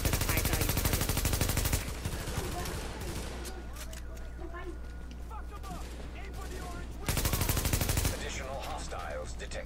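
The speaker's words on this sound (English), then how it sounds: "With all that gunfire." Bursts of automatic gunfire from the video game The Division, a loud dense volley at the start and another around eight seconds, with quieter shooting and game sounds in between and a voice talking over it.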